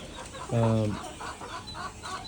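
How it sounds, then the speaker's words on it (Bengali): A single short cluck from a desi tiger chicken sounds close by on a caged rooftop farm, followed by quieter murmuring and faint background chatter. "আমার পাঁচতলা বাড়ির ছাদের উপর খাঁচা বিশিষ্ট একটি দেশীয় টাইগার মুরগির খামার"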